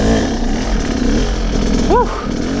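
A hard enduro motorcycle engine lugs at low revs right at the clutch engagement point, giving a rough, steady, close-up drone throughout, with a brief voice-like rising sound near the end.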